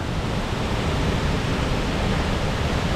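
Bridal Veil Falls in Oregon's Columbia River Gorge pours in a steady, loud, broadband roar of falling water heard up close, with no voices.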